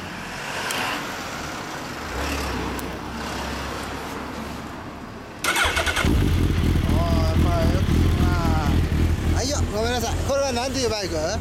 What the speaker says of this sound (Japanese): ごめんなさい、エンジン音聞かせてもらえますか。